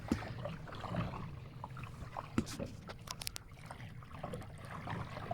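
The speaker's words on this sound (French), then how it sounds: "le bruit de l'eau sur la coque" Gentle water lapping and sloshing against a boat hull, a steady close wash with small irregular splashes and knocks.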